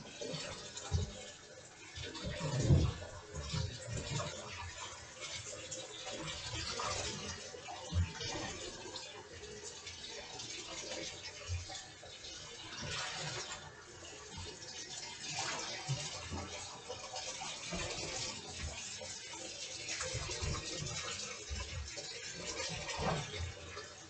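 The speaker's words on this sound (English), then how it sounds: "I see I got hot water." Hot water running into a bathtub, a continuous soft rushing and splashing that swells and eases over the length, fairly faint, with occasional quiet sounds from a person.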